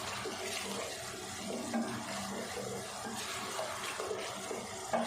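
Chickpeas and water pour into a pan of fried masala paste for restaurant-style Lahori chanay, a steady watery rush and splash that lasts several seconds at moderate level.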